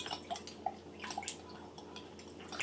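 A spoon stirs beef bouillon paste into broth for canning. Soft liquid swishes and small drips are heard up close at a low level.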